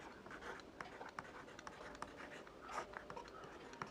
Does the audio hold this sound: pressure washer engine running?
no